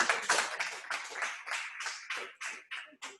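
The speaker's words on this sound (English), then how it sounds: "So please clap for Calvin" At a Rotaract Club installation ceremony, a small audience claps in sparse, uneven bursts, separate smacks trailing off and thinning out toward the end.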